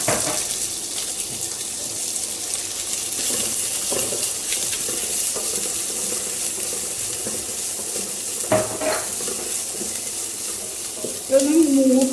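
Ginger and onion frying in hot olive oil, a loud continuous sizzle up close, with a few brief clinks of stirring and faint sounds in the background.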